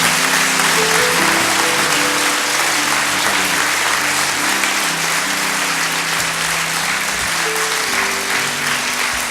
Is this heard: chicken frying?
no